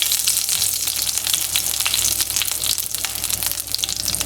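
Curry leaves frying in hot oil with fenugreek seeds, a steady close sizzle with bursts of crackling spatter running throughout, loud and continuous with no talk.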